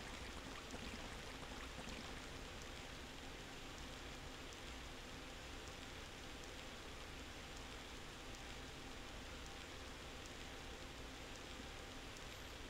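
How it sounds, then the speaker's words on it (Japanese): Steady rain pouring in the Sonic Adventure video game, a dense, even hiss of falling water that continues unchanged with no pauses and no voices. "わざわざ雨にしなくていいのにね。"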